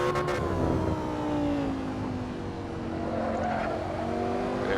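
A Lamborghini Sesto Elemento races a lap in the Assetto Corsa video game: its engine drones loud and continuous, the pitch sliding down and climbing again through gear changes, with faint tyre noise beneath.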